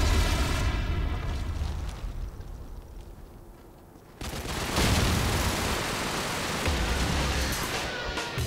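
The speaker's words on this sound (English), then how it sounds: "Friendly airstrike on the way!" Airstrike explosions in the Call of Duty: Modern Warfare video game, a roar of rumbling blasts and debris that eases off midway, then bursts back in with a heavy boom and keeps pounding loudly to the end.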